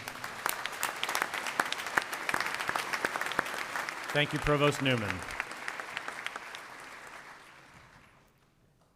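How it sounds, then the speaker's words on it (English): Sustained applause from a graduation ceremony audience at a naval postgraduate school, dense and loud, with someone briefly speaking over it before the clapping fades away toward the end. "A big round of applause for all of you."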